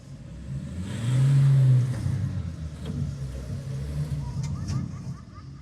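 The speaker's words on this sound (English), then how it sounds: "you put the vehicle in gear, you take your right foot here and you put that up against the firewall and you send it" A 4WD engine in gear with the throttle pushed to the floor, swelling to a loud revving roar about a second in, then settling into a steady, strained drone.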